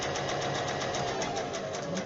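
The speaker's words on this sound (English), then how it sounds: "Does everybody know how to turn a corner on a sewing machine?" A sewing machine stitches fabric for a face mask, a steady, rapid mechanical whir with an even pulsing rhythm, close and continuous with no talk.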